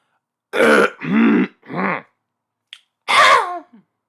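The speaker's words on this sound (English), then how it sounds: "Sorry, I had to clear my throat." A person clears their throat in a few rough, harsh bursts, then pauses before one last forceful rasp; close and loud, no speech.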